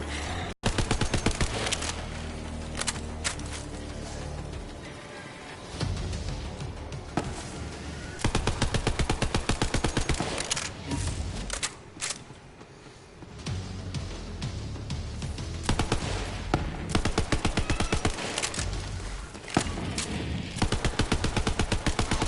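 Rapid automatic gunfire from Borderlands 3 combat, loud and near, bursting almost continuously with short gaps and sharp shot transients layered over game action.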